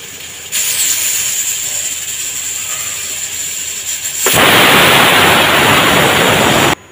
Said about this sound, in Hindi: अभी सीटी लगने ही वाली है, आपको आवाज़ आ रही होगी।